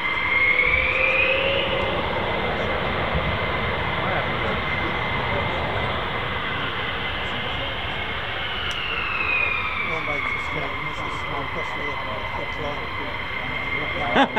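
An airplane engine during a high-speed taxi, a loud steady roar with a whining tone that rises and falls, continuous and close for the whole stretch.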